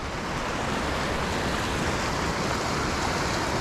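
Creek water rushes steadily beneath a railway crossing on Blind Creek, a dense, continuous broadband roar with no breaks, close and fairly loud.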